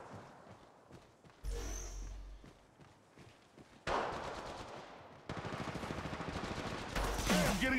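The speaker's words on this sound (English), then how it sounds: "I'm getting shot." Bursts of automatic gunfire striking the player in Apex Legends ranked play, several sharp loud volleys separated by brief lulls, with footsteps and faint talk in between.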